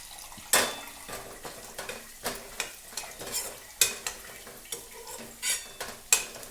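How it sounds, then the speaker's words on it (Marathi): Potatoes frying in oil in a home kitchen for poha, a close sizzle broken by repeated rhythmic stirring scrapes and clinks of a utensil against the pan. "आता आपले बटाटे छान होत आहे तेलात."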